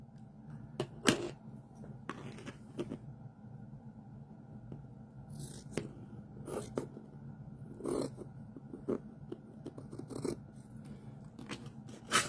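Scissors snip through a long strip of fabric for prairie points in a series of short, crisp cuts, spaced irregularly, close and moderately loud against a quiet room.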